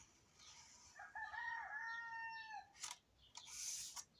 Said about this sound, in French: Et le coq ce matin